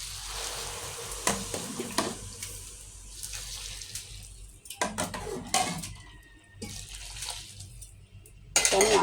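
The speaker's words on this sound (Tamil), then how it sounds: "இனி இப்போ நான் அதுக்கு தேவையான அளவு தண்ணி ஊற்ற போகிறேன்" Hot water poured from a side pot into a cooking pot in a home kitchen, a splashing, gurgling pour with clinks and scrapes of metal cookware, moderately close and without talk.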